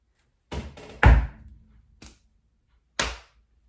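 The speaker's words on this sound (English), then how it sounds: "So first we stamp, clap, pat, snap." Four body-percussion hits in sequence: a stamp, a clap, a pat and a snap, each short and sharp. The third hit is the loudest and rings briefly, and a short gap comes before the last one. The sounds are close and clear, with no voices.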